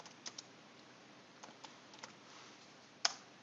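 Someone types on a computer keyboard in a quiet room, with a few sparse, faint key clicks spread out and one sharper, louder keystroke near the end, with no voices.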